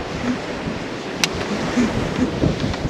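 Rough sea waves surge and wash in a constant roar, mixed with gusty wind buffeting the microphone, with no voices over it.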